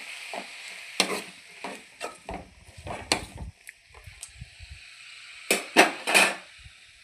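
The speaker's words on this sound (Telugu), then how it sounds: "మనం కట్ చేసి పెట్టుకున్న బీరకాయ ముక్కలన్నీ వేసేసుకొని ఒకసారి ఇలా" Cut ridge gourd pieces are stirred in a pan while cooking ridge gourd curry, giving repeated scraping, clattering strokes with soft sizzling in between, close and fairly loud.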